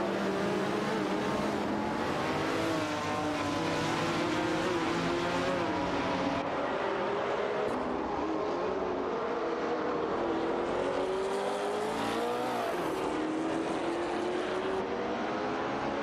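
Race cars in a racing video game, including a Ford GT40, roar around the track in a tight battle, with several engines layered into a loud, continuous, shifting whine that rises and falls throughout.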